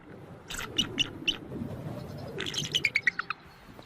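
A bald eagle at its snow-covered nest screams in two bursts of shrill, high chirping calls, the second a quicker run of sharp notes, fairly close against a faint background.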